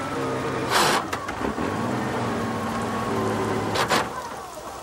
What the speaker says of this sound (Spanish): ¿Cómo puede llover tanto?